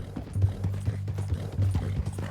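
Horse hooves clip-clop steadily in Red Dead Redemption 2 as a rider travels with a captive tied on horseback toward Saint Denis, a continuous close, rhythmic trotting under low game ambience.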